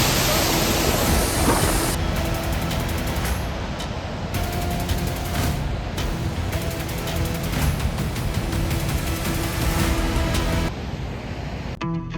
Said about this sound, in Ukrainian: потужний широкий водоспад Вапта Фолс, який з ревом падав униз, розбиваючись на тисячі бризок